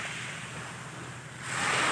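Sea waves wash the shore at high tide, a steady rushing surf with wind that swells into a louder breaking wash near the end, with no talking.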